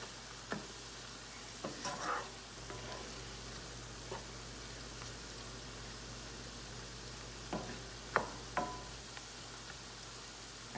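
Chicken being stirred in a pot while it browns for butter chicken, a soft steady sizzle with scattered scraping clacks of the spoon against the pot, fairly quiet and alone.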